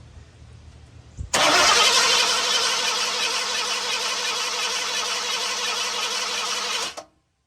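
A starter cranks an engine during a carburetor fuel pressure check for a partially saturated float: one loud, steady churning whir runs for about five and a half seconds, then cuts off, with no voices.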